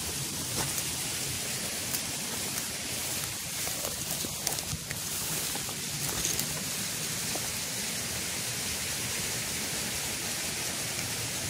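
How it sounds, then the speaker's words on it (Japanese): A rain-swollen mountain stream rushes through forest in Kagoshima, a steady broadband wash of water heard close and continuous, with scattered small clicks and knocks over it and no talk. "沢が流れてます、ずっと。"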